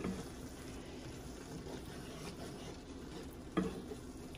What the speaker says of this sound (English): I'm adding the beans.